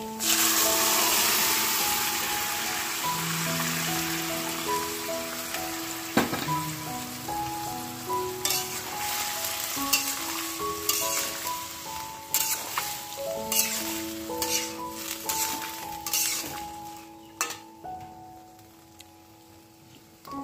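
Boiled pea dal poured into a hot pan with green chilies bursts into a loud, hissing sizzle that gradually settles into sparse sputters and clicks, with a soft melody playing in the background.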